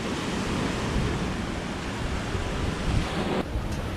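Strong wind buffets the microphone on a deserted island at sunset, a loud continuous roar mixed with surf that cuts off abruptly near the end; no voices.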